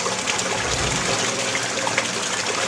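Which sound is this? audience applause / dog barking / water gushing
water gushing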